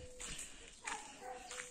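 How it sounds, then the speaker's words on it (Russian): Several dogs bark outdoors in a faint, scattered chorus, with a few short yips and woofs spread across the moment amid quiet background noise. "Хор собак. Лают везде."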